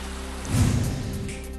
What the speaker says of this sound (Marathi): नांदेडमध्ये सुमारे 15 दिवसांच्या खंडानंतर जोरदार पावसाची हजेरी।